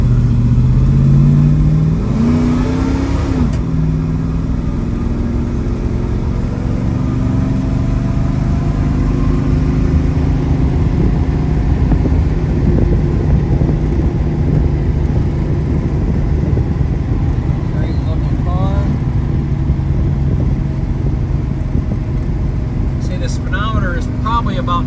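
A 1966 Ford Fairlane GTA with a 390 engine cruises at highway speed, heard from inside the cabin. Its engine drones steadily and loudly under heavy road and wind noise, while someone talks over it.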